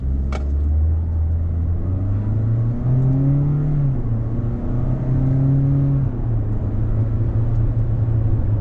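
A 2026 Toyota Corolla Cross LE AWD accelerating on the road: a steady, loud engine drone rising in pitch, dipping briefly as it shifts, then climbing again, with continuous tire and road rumble underneath and no talking.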